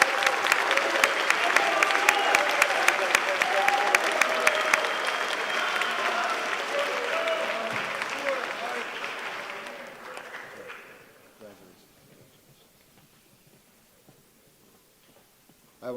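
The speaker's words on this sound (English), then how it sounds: "Ladies and gentlemen, please give our new members a round of applause." Applause at a Parent's Day induction ceremony welcoming new members, loud and dense at first, then thinning and tapering off over several seconds until the room falls nearly quiet.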